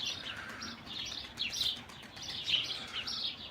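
A young smoky-coloured pigeon chick gives thin, high repeated cheeping calls in short bursts, fairly faint and close, with quiet background and no talk.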